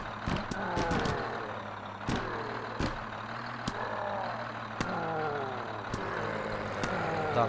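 A bus drives through a zombie video game, its engine drone steady and loud with game sound effects, sharp clicks and impacts layered over it throughout.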